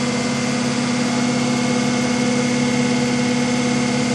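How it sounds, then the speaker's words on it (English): Electric-vehicle drivetrain with a ZF automatic gearbox at full throttle in fifth gear on a cold morning, the prop shaft spinning fast: a steady, loud, continuous mechanical whine and hum with strong fixed tones, unbroken throughout. "Full throttle, fifth gear. 92 amps at 48 volts."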